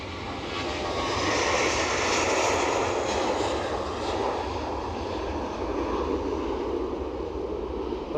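An EasyJet airliner passes at Edinburgh Airport, a steady broadband engine roar that swells and holds for several seconds, fairly loud and continuous with no talk over it.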